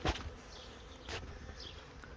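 A honey bee swarm being moved into a bee house, its buzzing a steady near drone with brief louder swells as individual bees pass close, no voices present.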